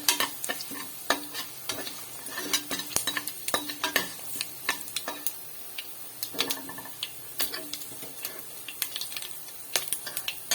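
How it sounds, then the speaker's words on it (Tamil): Asafoetida sautéed in a pan with dried manathakkali berries for a one-pot vatha kuzhambu: steady frying sizzle broken by frequent sharp clicks and scrapes of a spoon stirring against the pan, close and fairly clear. "பெருங்காயம் கொஞ்சம் சேர்த்து நல்லா வதக்கிக்கலாம்"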